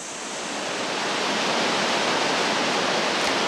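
Lumangwe Falls, where the Kalungwishi River drops 30 metres over a rock wall, gives a dense, constant roar of falling water that swells slightly and then holds steady, loud and unbroken.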